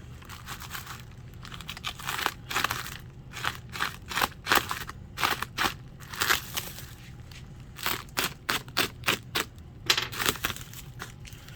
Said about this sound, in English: let me split the tape here